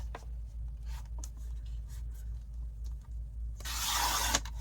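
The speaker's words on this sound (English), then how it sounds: "Go to your larger side, okay? And just trim off that edge." Scissors trim the edge off a paper file folder, with faint snips and paper rustle followed by a louder, longer rasping cut near the end.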